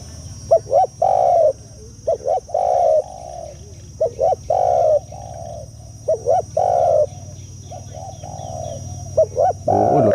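A spotted dove coos repeatedly in a rhythmic pattern of short notes and longer held coos, clear and near, over constant low background noise.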